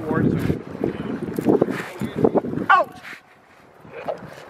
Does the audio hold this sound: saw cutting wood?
no